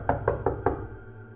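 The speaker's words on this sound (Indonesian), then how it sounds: "Terdengar suara pintu yang diketuk sangat keras." Four loud knocks strike a door in quick even succession, sharp and close, followed by a short hollow resonance fading into silence.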